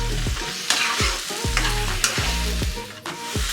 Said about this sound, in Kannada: ಬೆಲ್ಲ ಕರಗೋ ತನಕ ಇದನ್ನ ಇದೇ ರೀತಿ ಮೀಡಿಯಂ ಫ್ಲೇಮಲ್ಲೇ ಫ್ರೈ ಮಾಡ್ಕೊಳ್ಳೋಣ